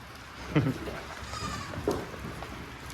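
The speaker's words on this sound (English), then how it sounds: "Interrupted by more goats." Goats on a goat farm bleat twice, a sharp call followed by another about a second later, with soft rain-like background noise.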